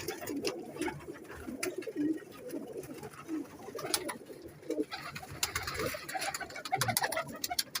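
Pigeons kept for breeding and flying coo close by, soft throaty calls overlapping in an irregular stream, with some rustling and small knocks in between.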